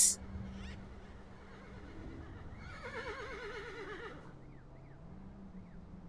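Horse whinnying outdoors at sunrise, a wavering neigh rising mid-clip and carrying for about a second, with faint birdsong and low background rumble around it.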